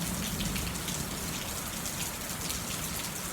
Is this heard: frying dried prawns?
no